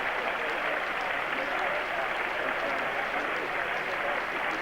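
A large stadium crowd at a 1996 Stockholm athletics meeting gives a pole vaulter sustained, dense rhythmic applause, loud and continuous throughout.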